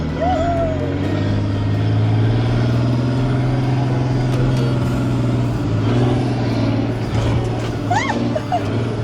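A truck reversing up a dune in the Sahara, engine droning steadily and revving throughout, with voices and shouts over it.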